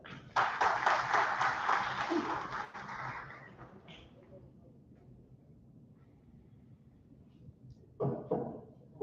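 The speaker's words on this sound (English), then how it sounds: "Let's give him a round of applause." Applause from a conference audience swells for a couple of seconds then fades to near silence, followed by a short second burst of clapping near the end.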